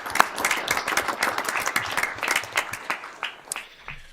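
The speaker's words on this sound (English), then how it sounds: "Let's give him a round of applause" Audience applause at an awards recognition ceremony for a legal innovator, a moderate crowd clapping steadily for about three seconds before thinning into a few scattered final claps.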